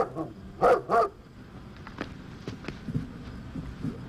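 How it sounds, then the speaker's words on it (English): A dog barks twice in quick succession outdoors in a forest setting, loud and near, followed by quieter background noise and faint movement sounds. "it's a dog"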